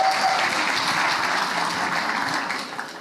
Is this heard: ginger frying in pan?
no